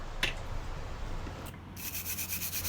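Wire brush scrubbing leftover scale off forged steel blacksmith tongs after a vinegar soak, a steady close rasping rub with brief sharper strokes, heard alone.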